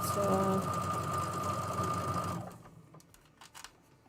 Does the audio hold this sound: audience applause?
no